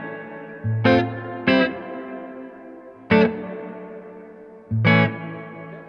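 Strymon BigSky pedal set to a warehouse reverb, four separate plucked or struck chords each ringing out into a long, cavernous wash that trails off slowly between hits, with no talking.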